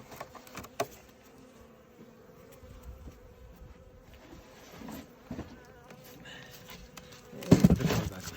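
Honeybees buzz softly and steadily close by around an open hive in the rain, with light taps and a louder rustling clatter near the end.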